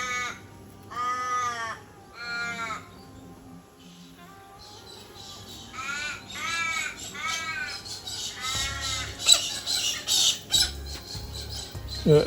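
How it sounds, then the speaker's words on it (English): Ravens in Western Australia give harsh, drawn-out caws in repeated bursts, some nearer and louder, others farther off, with a busy evening bird chorus building toward the end. "they're technically not crows, they're ravens here in WA"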